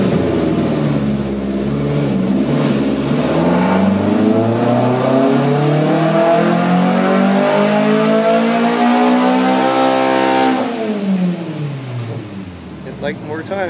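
A 1983 VW Rabbit GTI engine revs hard on a Dynapack dyno, its tone climbing steadily through a long loud pull for about ten seconds before dropping away as the throttle is released.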